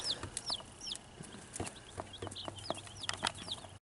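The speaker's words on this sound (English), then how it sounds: "So here's the chicks, all 50 plus of them." A brooder of more than fifty baby chicks peeps continuously, with repeated high, thin chirps overlapping close by. Soft scratching and tapping sounds come from underneath, with no talking.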